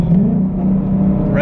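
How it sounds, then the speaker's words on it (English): A Ford Mustang Mach 1 V8 blips its revs for a downshift rev-match, a loud close engine note that swells and holds briefly. "Rev match."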